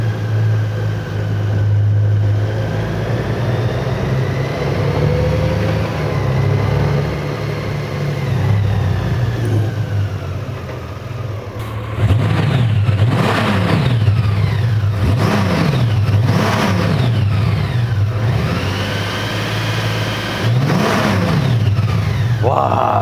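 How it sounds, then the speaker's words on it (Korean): A 2022 Honda Gold Wing 1800 DCT six-cylinder motorcycle idles smoothly, then its exhaust revs repeatedly in rising and falling bursts, close and loud, with a voice talking over parts of it. "6기통이라서 굉장히 고급진 배기음이 납니다."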